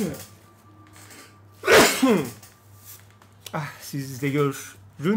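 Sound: sneeze

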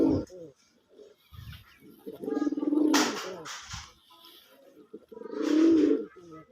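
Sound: male pigeon cooing

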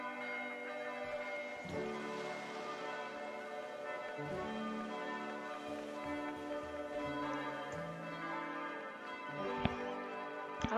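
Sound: wedding church bells in video game Old Man's Journey

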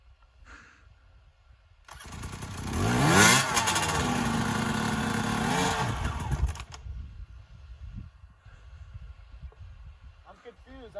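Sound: motorcycle being ridden

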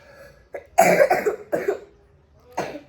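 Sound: coughing

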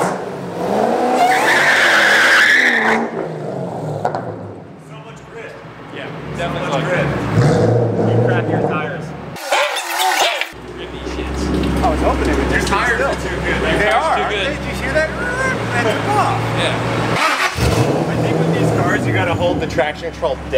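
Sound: Shelby GT500 doing a burnout with tire squeal

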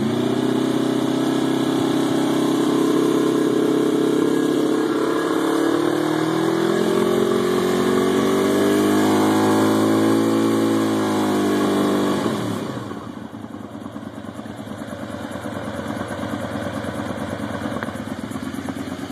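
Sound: Honda VFR 750 motorcycle engine revving at 5,000 RPM

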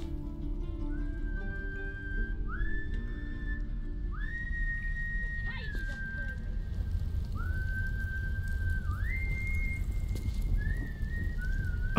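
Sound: character whistling a tune in video game Baldur's Gate 3

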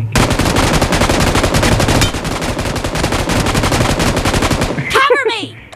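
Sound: gunfire in a shooting video game

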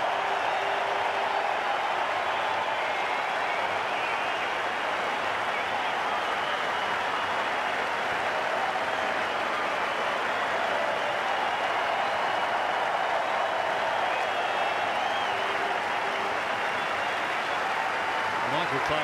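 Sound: cricket crowd applauding Ponting's test century at the SCG

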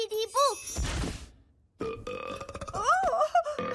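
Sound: burping from a box of burps in a cartoon

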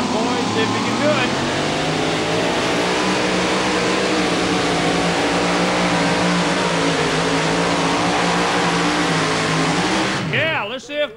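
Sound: truck pull engine, KB Hemi in 2005 Chevy Colorado

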